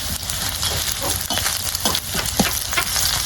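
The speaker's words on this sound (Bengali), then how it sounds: "এটা আমি অল্প পরিমাণে জিরা ফেলে দেব।" Cumin seeds sizzle in hot oil in a pan for a jute-leaf stir-fry, a loud, steady, close crackling hiss with a few brief scraping stirs mixed in and no voices.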